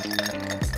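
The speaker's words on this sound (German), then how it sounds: "Zuerst wollen wir das Glas richtig schön voll machen mit Eiswürfeln." Ice cubes clink into a glass as it is filled for a rum Cherry Collins, a short bright clatter of a few cubes up close, with a low hum underneath.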